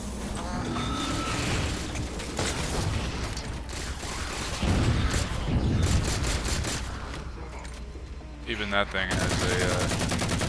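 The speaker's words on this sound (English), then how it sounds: "really like the sound of that gun in this game." Rapid gunfire bursts and mechanical weapon clatter from the Halo 4 campaign, loud and dense, with repeated volleys and a short clicking burst near the end; someone speaks briefly over it.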